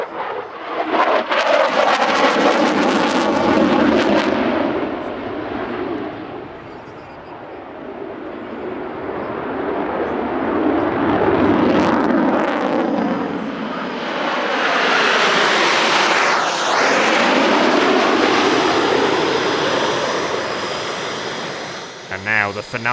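Italian Air Force Frecce Tricolori jets fly a 10-ship formation loop at a centenary airshow, a loud continuous roar that swells and sweeps past with rising and falling pitch for the whole stretch.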